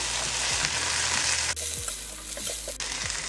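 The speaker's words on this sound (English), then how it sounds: "Give that a stir again." Green beans and almond slivers fry in olive oil with a steady loud sizzle while a utensil stirs them, scraping through the pan in a few short strokes; no one speaks.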